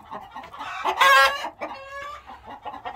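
Backyard chickens cluck close by while a rooster gives a short crow, with overlapping calls rising and falling across a few seconds.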